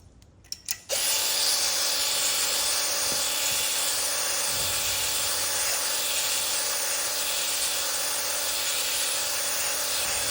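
A steady, loud hiss of WD-40 sprayed into the bore of an Allis B engine, starting after a few short clicks and running on unbroken for about nine seconds.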